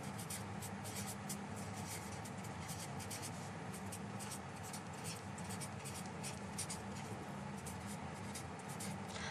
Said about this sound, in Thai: เขียนตรงนี้แล้วกัน